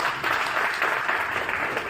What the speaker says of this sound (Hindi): मुझे लगता ताली बजनी चाहिए इस बात पे